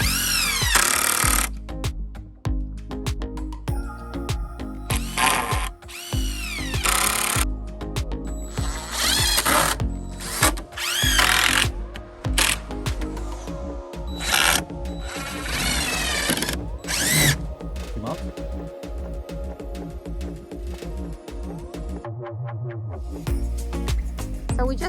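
A cordless drill driving screws into the wooden slats of a shed on a cabin build site, with repeated loud whirring bursts, ratcheting clutch clicks and short pauses between screws, close by and with no speech.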